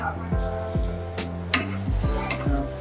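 Eggplant slices frying in a pan give a close, steady sizzle, with a few sharp utensil clicks and scrapes scattered across it and no talk.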